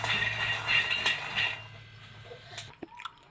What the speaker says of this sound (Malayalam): സിമ്മിൽ വെച്ചിട്ട് പതുക്കെ ഇങ്ങനെ ഇളക്കി കൊടുത്തിട്ട് വറുത്തെടുക്കണം.